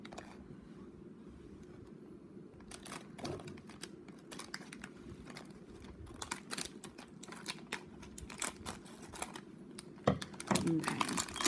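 A blade cuts along the line of a Yummy Nummies chocolate bar's plastic packaging, making a run of close, crisp crinkling snips and rustles over a low background hum.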